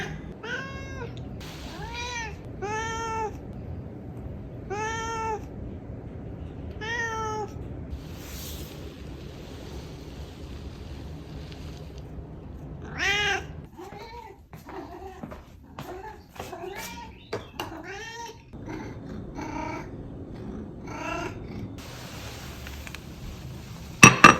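A pet cat meows repeatedly for food, a series of clear, fairly close cries with short pauses, followed by scattered clinks and small household noises in a quiet room.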